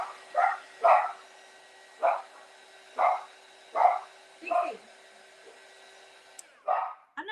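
Several dogs bark in short, separate bursts, about seven barks over several seconds with brief pauses between them, moderately close and clear, with no talking over them.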